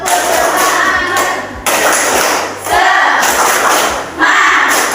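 Schoolchildren in a classroom perform the rhythmic spirit clap, loud quick claps and thumps in patterned bursts with chanting young voices throughout.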